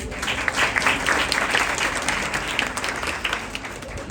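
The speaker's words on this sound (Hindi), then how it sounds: "शारोन के लिए तालियां बजाएं।" A church congregation breaks into sustained applause during a service, a dense, even wash of many hands clapping at moderate volume with little talk.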